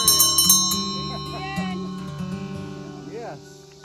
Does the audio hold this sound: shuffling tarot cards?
no